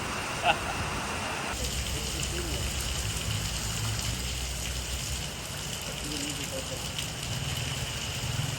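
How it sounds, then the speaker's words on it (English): Steady monsoon rain in Malaysia, Southeast Asia, falling as a continuous hiss that thickens after a brief pause near the start, with soft low rumble beneath and no clear talk. "I feel like this rain should pass and the rest of the day might be sunnier."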